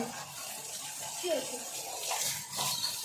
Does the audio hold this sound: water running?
yes